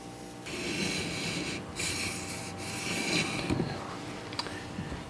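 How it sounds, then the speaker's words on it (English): A Benchmade 940 knife bevel being sharpened on a stone gives a steady, close scraping rub with rhythmic strokes and no talking. "The stone was removing marker pretty much along the full width of the bevel out to the edge"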